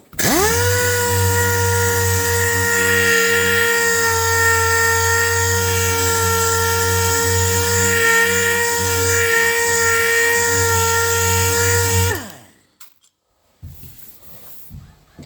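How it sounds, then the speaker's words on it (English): A power sander works over 670HS primer in one steady, loud, droning run that holds level for about twelve seconds and then cuts off sharply, leaving near silence with a few faint knocks. "I'll sand that a bit more now to get that out of there."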